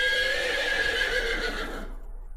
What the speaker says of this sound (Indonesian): Tapi ringkikan binatang itu malah semakin keras.